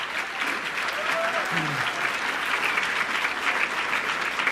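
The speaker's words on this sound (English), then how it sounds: "So, Mayor Rosas, let's give him another round of applause." Sustained applause from an audience at a governor's announcement event, a dense, steady wash of clapping that stays level throughout.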